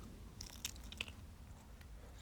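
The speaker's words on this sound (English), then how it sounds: "Sounds like it got a nice crunch to it" A crawfish boil egg roll gets bitten, giving two or three sharp close crunches of fried wrapper over a quiet background.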